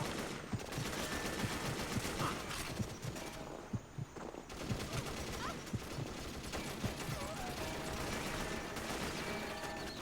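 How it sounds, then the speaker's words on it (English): Turret in Perfect Dark firing at the player, dense rapid gunfire crackling throughout amid busy game noise, with occasional sharper shot spikes. "Now I'm getting shot by a turret."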